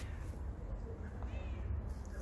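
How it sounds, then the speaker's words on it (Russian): A cat yowls somewhere in the distance, its drawn-out cries faint over a rumbling outdoor background. "Кот где-то орёт."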